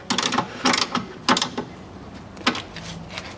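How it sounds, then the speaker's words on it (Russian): A ratchet wrench clicks in short bursts while tightening the rear stabilizer bushing bolts on a 2013 Mitsubishi ASX 1.8, giving about five close, sharp rounds of rapid ratcheting with brief pauses between them. "Болты подтягиваем, но не перетягиваем, чтобы не посрывать резьбы,"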